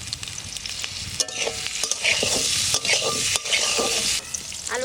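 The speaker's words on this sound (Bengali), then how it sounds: "সামান্য তেল দিয়ে আমি একটু চাপাবো। আলু কটা আগে ভেজে নেব।" Potato pieces frying in a little oil with a pinch of turmeric and salt, a dense bright sizzle churned by repeated close spatula strokes and scrapes across the pan, with no talking.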